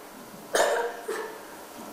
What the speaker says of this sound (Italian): Ci soffiano sostanze nei polmoni per farci venire una tosse violenta.